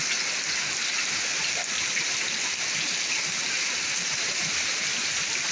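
Rising floodwater during bad weather, heard as a steady, dense rush of water and rain that continues without a break, loud and close with no talk.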